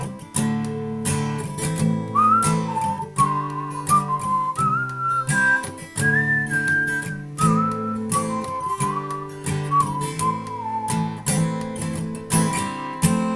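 A person whistles a sustained, wavering melody as the instrumental break of a song, carried over steady strummed accompaniment that runs continuously underneath at moderate loudness.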